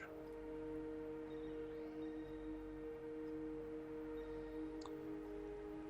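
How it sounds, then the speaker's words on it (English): Steady indoor hum of an air conditioner, a constant low drone with sustained tonal lines running unbroken and fairly faint, with no talk over it. "the hum of the air conditioner."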